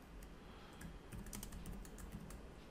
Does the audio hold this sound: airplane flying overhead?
no